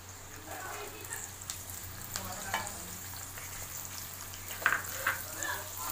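Carrot and capsicum stir-fried for fried rice, a continuous close sizzle with scattered scraping and tapping of a spatula in the pan, loudest near the end.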